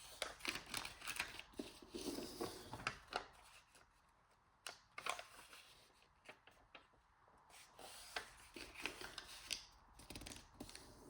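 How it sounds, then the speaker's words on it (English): Scissors cutting pieces of paper at an angle for a folded paper folio, a series of soft, close snipping and rustling sounds in bursts, with no talking. "I'm just going to angle cut these 2 pieces."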